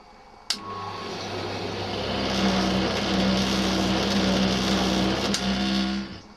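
A faulty tumble dryer: a loud mechanical drone with a tonal hum starts after a sharp click and runs steadily, close and continuous, ending with another click.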